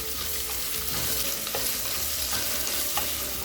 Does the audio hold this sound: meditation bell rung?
no